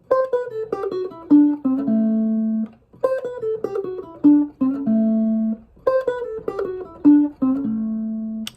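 Electric guitar plays a Chicago blues phrase at full tempo, a clean picked run of single notes and bends that repeats three times in a steady rhythm, close and alone with no talking.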